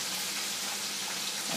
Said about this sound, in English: I'm still frying chicken